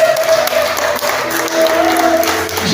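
A church congregation applauds and cheers during a sermon, steady clapping with some crowd voices at moderate loudness for the whole stretch.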